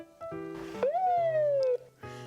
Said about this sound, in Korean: 이렇게 짧게 한번 울리는 사이렌은 보통 신호 위반을 단속하기 위해 사용된다고 해요